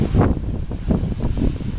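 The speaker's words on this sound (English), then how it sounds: "Oh, here comes another gust." A gust of wind buffets the microphone near a 19,900-volt power line and a tree, a loud, low, rumbling roar that pulses in uneven surges.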